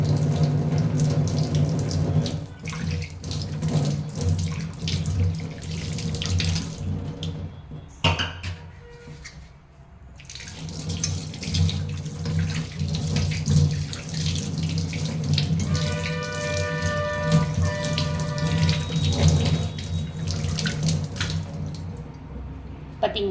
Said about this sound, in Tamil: இப்போ பித்தளை சாமான் கழுவி காமிக்கிறேன்.